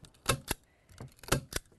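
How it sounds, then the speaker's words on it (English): A staple gun fires staples through fabric into the edges of old furniture being reupholstered for garden use, giving sharp mechanical clacks in pairs, about four distinct loud snaps with brief quiet gaps between them. "take the staple gun and just staple it to the edges"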